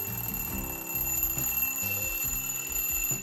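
A bedside alarm clock rings in a home without stopping, a loud electronic melody of steady repeating beeping notes that runs for the whole stretch with no one speaking.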